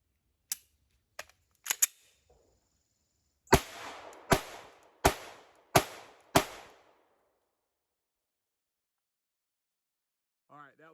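Glock 19 pistol fitted with an Arc Division Reactor port system firing: three sharp shots spaced out, then five louder shots in a steady rhythm with short echoing tails, near and alone, followed by silence and a brief faint tone at the end.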